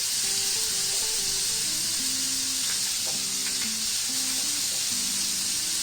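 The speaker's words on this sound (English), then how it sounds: "Time to add in the marinated prawn." Marinated prawns go into a hot tawa with a loud, constant bright sizzle. The frying hiss stays close and steady throughout, and a faint melodic tune plays softly underneath it without any talk.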